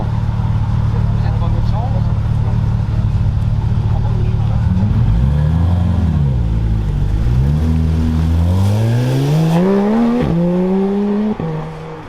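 A yellow McLaren 720 supercar arriving at a rally gathering in Lyon, its engine droning low then climbing through rising revs close by, amid crowd chatter and people talking.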